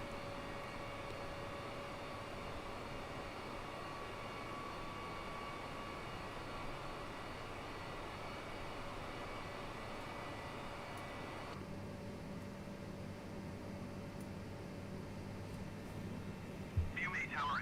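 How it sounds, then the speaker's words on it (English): Airbus airliner in Microsoft Flight Simulator 2020 at Manchester cleared for takeoff on runway 25, a steady droning engine hum with a constant whine that shifts pitch partway through, under radio-style talk. "Cleared for takeoff runway 25 Airbus."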